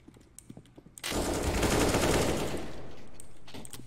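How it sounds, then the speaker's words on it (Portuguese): Rapid automatic gunfire in a first-person shooter game, a loud sustained burst that starts abruptly after a second of quieter clicks and footsteps, then fades slightly while continuing to the end. "Você atira andando muito"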